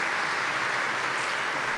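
Audience at an event with Pope Francis clapping as a boy leaves the stage, steady dense applause from a large crowd, evenly sustained with no voices over it.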